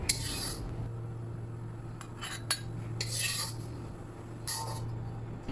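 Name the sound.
roasted chickpea flour being taken out of a kadhai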